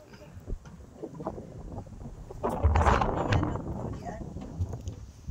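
Strong wind gusts roar and buffet the microphone at Mayon Skyline, rising into a strong, rumbling rush midway before easing off.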